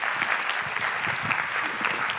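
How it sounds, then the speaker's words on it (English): Warm audience applause at a conference opening, steady dense clapping throughout, moderately loud and close, with no speech over it. "Please give him a really warm round of applause, because this man is a dude."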